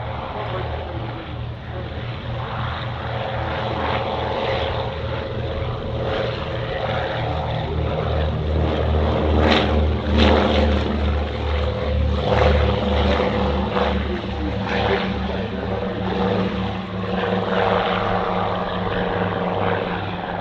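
A Fairey Swordfish biplane's propeller engine drones steadily as it takes off at the Duxford Battle of Britain Airshow, a continuous, throbbing low roar at moderate distance that swells slightly midway.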